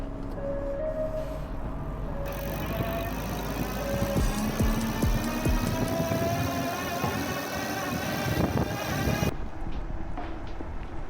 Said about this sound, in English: let's see how this thing accelerates from a dead stop to 20, not using any pedal power.